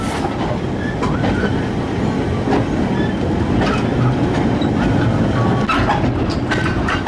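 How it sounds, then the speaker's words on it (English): A coal freight train rumbles steadily past close by, its wagons clattering and clanking in a continuous, loud roar with no talking. "These are coal wagon trains."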